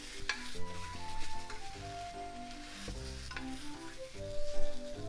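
Dashimaki tamago, a Japanese rolled omelette of egg and dashi, cooks in a pan with a gentle sizzle under quiet music, with a few soft scrapes of the utensil and no talking.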